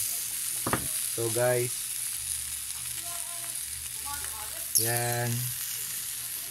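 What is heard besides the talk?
chicken longganisa frying in a pan without oil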